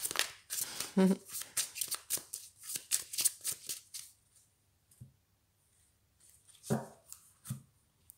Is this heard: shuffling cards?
yes